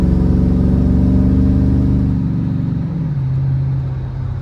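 A car with a stock LQ9 engine and a new exhaust accelerates under throttle, its loud, steady engine drone holding then dropping in pitch at a downshift before settling into a lower hum.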